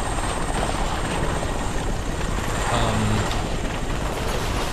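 A helicopter in the Crysis shooter game drones loud and steady throughout, a continuous rotor roar with faint clicks of gunfire underneath.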